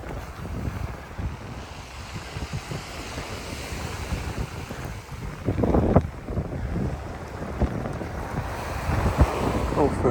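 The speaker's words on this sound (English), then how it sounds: "listening to that lovely sound of the sea." Sea waves wash along the Kent coast between Broadstairs and Sandwich, a constant surging rush with heavy wind buffeting the microphone and a few louder swells.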